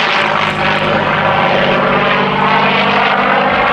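Curtiss P-40E Kittyhawk warbird in flight, its piston propeller engine droning loud and steady throughout with a rich, rumbling roar and no talk.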